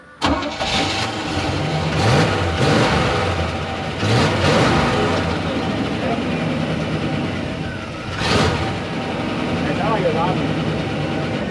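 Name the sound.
1990 Chevrolet Cheyenne 2500 truck engine running after sitting 13 years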